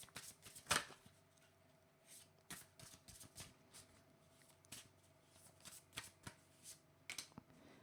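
A deck of oracle cards is shuffled close by, with a burst of riffling followed by a string of soft, irregular flicks and taps in a quiet room.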